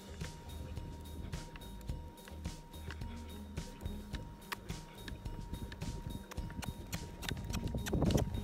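Mares walking on grass, soft irregular hoof thuds at a relaxed pace with faint clicks, fairly close and quiet, under occasional background noise.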